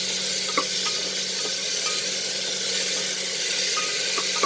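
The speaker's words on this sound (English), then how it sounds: "cook for 2 minutes over medium-high flame till the onions get slightly cooked" Onions and chicken sautéing in a pan over a medium-high flame, a steady close sizzle and hiss running throughout with a few faint pops and crackles, no voices.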